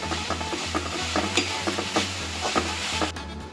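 Onions and vegetables sauté in a small pan for bread upma, a continuous close sizzle broken by regular scraping stir strokes against the pan, with no talking.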